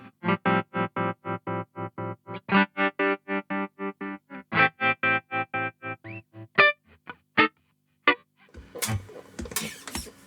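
Electric guitar played through a ZVex Super Seek Trem tremolo pedal, a steady stream of pulsing chopped notes alternating hard and soft beats, then sparse isolated stabs and a burst of noisy handling at the end.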